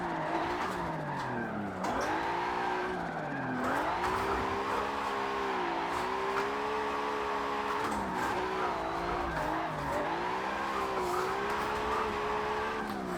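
A Nissan Skyline R32 drifts in Forza Motorsport 7, its engine revving and wavering continuously while tyres squeal through long slides, loud and sustained with no talking.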